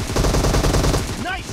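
Rapid automatic gunfire in a mobile team deathmatch shooter game crackles loud and close in a steady burst, with a brief tonal game cue near the end.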